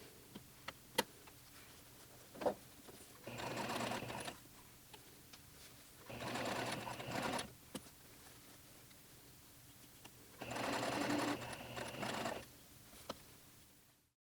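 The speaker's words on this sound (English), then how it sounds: "Make sure your threads are long, hold them to the back, and we can start stitching without any back tacks." A sewing machine stitches a muslin bodice in three separate bursts of rapid, even whirring, each a second or two long, separated by quiet pauses with faint clicks and handling noises.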